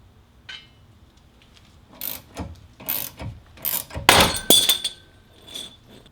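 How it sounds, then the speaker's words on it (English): Working a ball joint separator to free the front lower control arm from the knuckle on a Scion FR-S produces a series of sharp metallic ratcheting clicks and scrapes, building to louder, denser bursts toward the end, with no talking. "we're going to use the ball joint separator"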